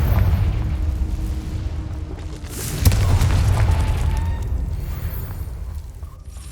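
A Confringo fire-blast spell in Hogwarts Legacy erupts with a deep sustained rumble, a sharp burst landing midway and the roar slowly fading out.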